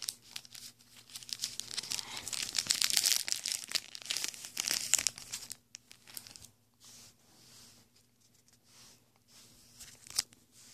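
Pokémon card deck packaging being opened, with crinkling and tearing of the foil wrapper for about five seconds, then quieter shuffling and handling of the cards.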